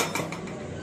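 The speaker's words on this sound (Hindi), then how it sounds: "बर्तन उठा के लाई हूँ नीचे से" Metal pots and dishes clinking and rattling as they are carried, a few light clatters over a faint household background, close and fairly quiet.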